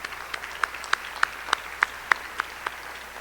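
Applause from a conference audience, heard as a sparse run of about ten sharp, evenly spaced claps over a faint room hum, fairly quiet and brief.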